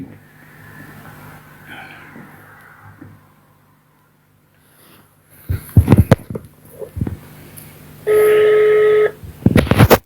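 A telephone call is dialed: scattered handling clicks and knocks, then a loud, steady dialing tone burst, set against a quiet background hum.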